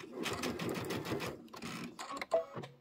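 A sewing machine stitches quilt pieces in quick bursts, running steadily for over a second, pausing, then firing short runs, with a faint voice nearby.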